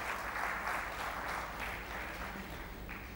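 Audience applause for a panel at a conference session on growth, opportunities and challenges: a steady, dense wash of clapping from a sizeable crowd, moderately loud and even throughout, with no voices over it.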